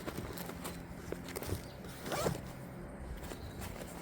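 A zipper on a C2R-FAST MRAP multi-role assault pack is pulled shut in one quick close pass, near and fairly quiet, with slight handling rustle around it.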